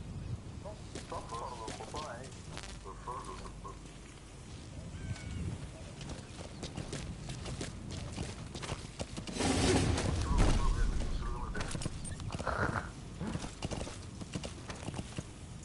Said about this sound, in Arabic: طب انا عايز حصان. تعالى يا حصان